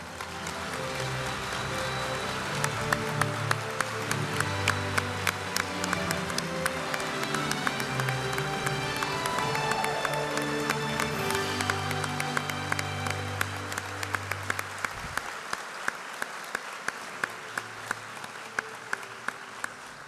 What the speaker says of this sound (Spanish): a nuestro auditorio brindarles un fuertísimo aplauso